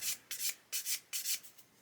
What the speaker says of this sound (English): We're just going to remove that just by gently sanding.